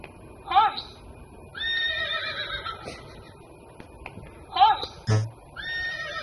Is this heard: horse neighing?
yes